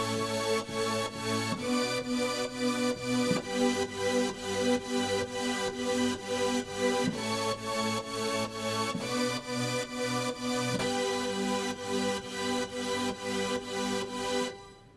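Sustained synth push pad in a worship keyboard part, its cutoff filter rhythmically opening and closing on the offbeats, steady chords pulsing through the full passage with no voices.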